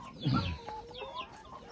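Laying hens on a small farm give a soft burst of clucking, then a few lighter, higher clucks and chirps trailing off, faint and fairly close.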